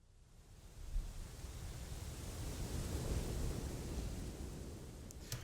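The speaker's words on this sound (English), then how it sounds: "And we just brought in a little bit of the wind, a little bit of the water." Soft natural wind and rushing water effects from a music track swell gently as a broad hiss, rising and falling like surf, faint and alone with no voices.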